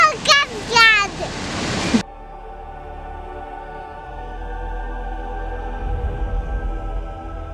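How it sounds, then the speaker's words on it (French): The Banfora waterfalls in Burkina Faso, a steady rushing roar of falling water heard after a few seconds of talking, with a low rumble swelling toward the end. "Bienvenue en cascade!"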